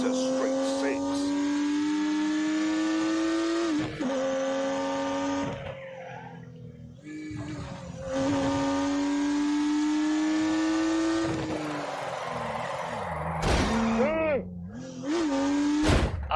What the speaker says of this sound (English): unleashed 365 rampaging horsepowers from the turbocharged 3-litre straight six